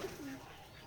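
A single soft pigeon coo from a pigeon farm in a village near Keshabpur, Jessore, faint and brief against quiet background noise.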